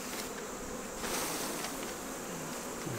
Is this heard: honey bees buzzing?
yes